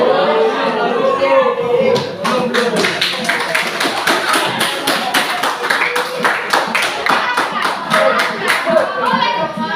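Students clapping their hands together in a school classroom, a dense, continuous patter of many hands that stays steady and fairly loud throughout, with some voices mixed in underneath.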